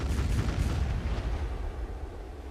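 Ship cannons firing in Black Desert Online, a dense burst of booming blasts with a heavy low rumble that fades slightly over the short stretch, no talk.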